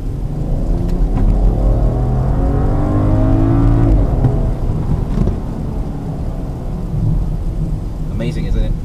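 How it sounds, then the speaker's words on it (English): A BMW X4 xDrive35i in Sport mode revs hard, its engine note climbing in pitch through a quick throttle blip over a steady rumble of road and wind noise, then settling back down. "Check out the throttle response."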